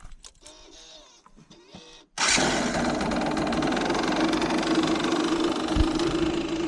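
Yamaha TDR 125 motorcycle engine after a couple of seconds of quiet clicking and handling noises, then catching and settling into a loud, steady idle.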